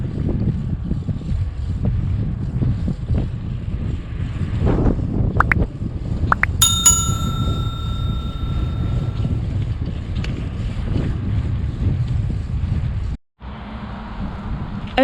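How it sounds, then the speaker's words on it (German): Strong headwind buffets a microphone while cycling on a road trip through North Macedonia, giving a steady, loud, low rumble with a brief high whistle midway and a sudden short dropout near the end. "Kämpfen weiter gegen den Wind."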